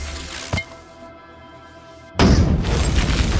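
A bomb goes off in a film battle scene at an enemy-attacked compound: a short thump, a brief quiet stretch, then a loud sustained explosion rumble that fills the rest of the moment.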